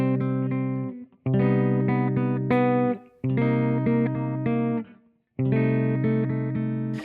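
Three sustained minor chords on a bright, buzzy instrument, each held about two seconds with short gaps between, one inner note stepping downward while the other notes stay the same, close and loud with no voices.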